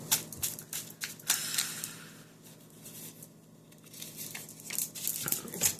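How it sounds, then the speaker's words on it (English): Several packs of oracle cards being shuffled by hand, giving bursts of papery riffling and crinkling that come and go, loudest at the start and near the end, with a quieter stretch in the middle and no talking. "I'm shuffling different packs of them."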